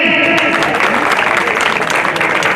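Crowd clapping at a Buddha Jayanti procession in Agra, a dense, steady wash of applause throughout, loud and close, with a voice faintly mixed in.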